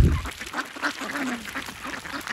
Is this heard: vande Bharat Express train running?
no